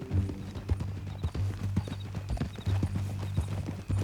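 Horse hooves clip-clop in a steady walking rhythm in Red Dead Redemption 2, close and clear, with a low hum of game ambience underneath.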